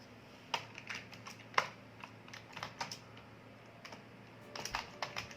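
Keys clatter on a computer keyboard in a quiet room, a light, irregular run of taps with a few sharper strikes, close and alone.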